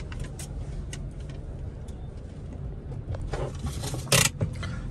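A car reverses into a parking spot outside a grocery shopping trip, its engine a steady low rumble beneath faint background clatter, with a brief louder scrape or clunk near the end as it settles into place.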